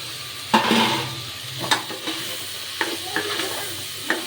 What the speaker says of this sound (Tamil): நல்லா வதங்கட்டும், வதக்கிக்கலாம்.